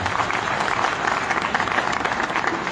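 A crowd applauds loudly and continuously at a speech event, a dense wash of clapping throughout with no pauses.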